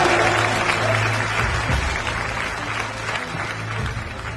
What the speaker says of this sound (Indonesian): Boleh kasih tepuk tangan yang paling meriah.